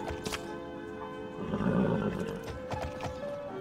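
A horse whinnies in the Alicia Online video game, a wavering neigh over a busy background of in-game music and effects, with a few sharp clip-clop hoof taps. The sound is moderate and fairly close.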